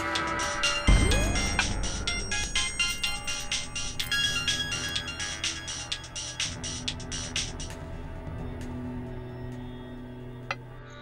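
A mobile phone ringtone for an incoming call plays loud and close, a bright repeating melodic pattern that runs continuously for about ten seconds with no voices over it.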